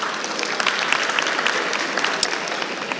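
Sustained audience applause fills a university orientation hall for final-year students ahead of National Service, a dense, steady crowd clapping with no speech over it.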